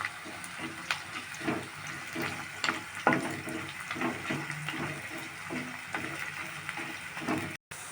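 Chopped onions and carrot fry in a pan with a steady, hissing sizzle and small crackling pops, moderately close and continuous throughout.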